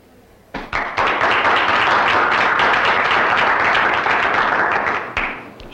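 Applause in a film scene, as a burst of dense clapping starts abruptly after a few sharp taps, sustains loud and close for several seconds, then cuts off with a final clap.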